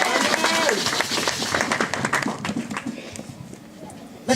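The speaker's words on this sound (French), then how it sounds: "Acclame plus fort, alléluia!" A church congregation acclaiming and cheering for the glory of God, a dense burst of clapping and shouting voices that fades out, then a brief loud swell at the end.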